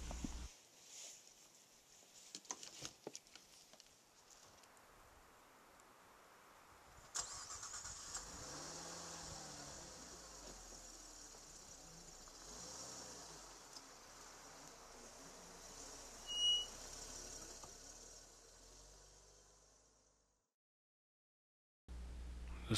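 A car engine starts in a snowy park, quiet at first with some clicking and handling sounds, then cranks and catches. The idle settles into a faint, steady hum before cutting off near the end.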